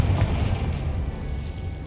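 A Confringo spell explodes in the Hogwarts Legacy video game as a dense, low rumbling boom that stays loud and rolling throughout, with no voices over it.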